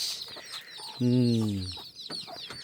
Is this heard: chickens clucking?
yes